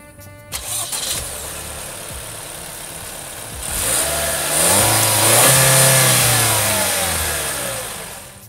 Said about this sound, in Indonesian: kita dengar dulu suara mesin 2000 cc turbo yang tenaganya lebih dari 230 horsepower ini